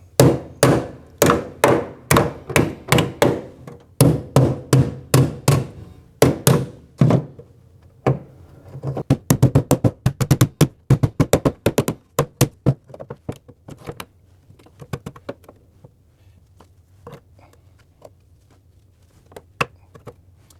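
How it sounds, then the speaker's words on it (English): Hammer blows on a metal part during a rotary engine swap into a Mazda Miata, struck in rapid clustered bursts of sharp thunks, close and loud, with pauses between volleys and lighter taps trailing off. "what I'm going to do is just hammer it a little bit."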